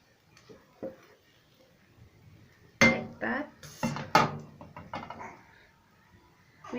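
An egg omelette being flipped in a frying pan with a utensil, a few sharp metallic clanks and scrapes bunched in the middle, with faint quieter handling before and after.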